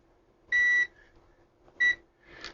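A Zotek ZOYI ZT-702S multimeter on continuity test gives two short, sharp electronic beeps close by, separated by about a second, followed by a fainter chirp.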